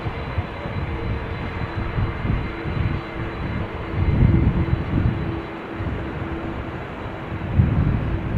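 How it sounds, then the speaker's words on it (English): Embraer 190 airliner landing at Amsterdam Schiphol Airport on a showery day, a steady low engine rumble at moderate distance that swells slightly midway and again near the end, with no talk. "Meanwhile, Embraer 190s are coming in."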